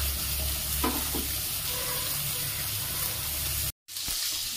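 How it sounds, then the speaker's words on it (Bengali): Three pieces of catla fish fry in hot oil, giving a loud, continuous close-up sizzle and crackle with a couple of faint clinks and a brief cut in the sound near the end. "অল্প অল্প করে মাছ আমি ভেজে নেব"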